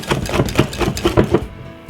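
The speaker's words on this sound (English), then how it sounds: "What we need to do is to get the whisk now and give it a quick whisk." A whisk beats cinnamon sponge cake batter in a bowl with quick, rhythmic strokes, about eight close, even scrapes in under two seconds before stopping.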